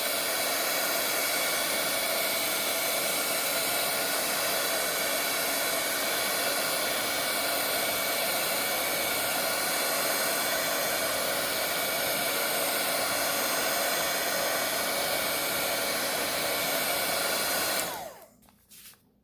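A hair dryer blows steadily and loudly on gesso and paint, a constant broadband whoosh that runs alone for about eighteen seconds before switching off abruptly near the end.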